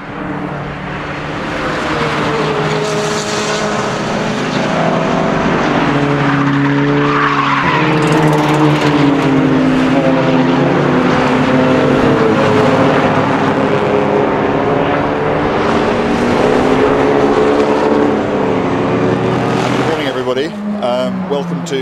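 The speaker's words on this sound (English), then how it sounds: "The cars are going to the grid now." Aston Martin race cars at Silverstone heading to the grid for a 24-hour race, engines droning and shifting at close range with tire squeal, under a steady layer of talk.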